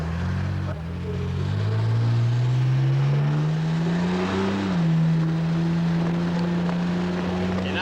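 Buick Riviera pace car at the Indianapolis Motor Speedway before the 1983 Indianapolis 500, its engine droning loud and close as it accelerates, pitch rising steadily then leveling off at a sustained cruise.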